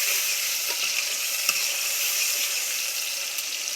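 Tomatoes and spices sizzle in a pan while being stirred, a steady close hiss that stays even throughout, with only a faint scrape or two and no voices.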